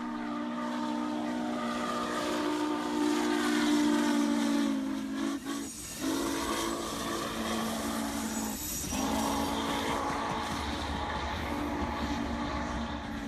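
611 steam locomotive crossing the Dan River Bridge: a long, moderately distant chime whistle with harmonic tones, two brief breaks between blasts, over steady hiss and rolling train rumble.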